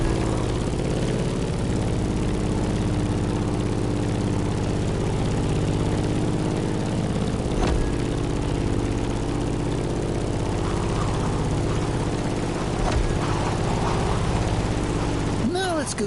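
Propeller plane engine in The Crew Motorfest racing game: a steady, loud droning hum with a constant low tone that holds for the full length, with voices talking over it.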